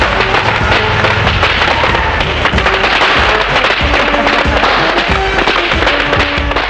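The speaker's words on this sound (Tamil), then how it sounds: "பட்டாசு" A dense, loud barrage of firecrackers crackling and popping continuously with sharp thuds mixed in, no pauses, no speech.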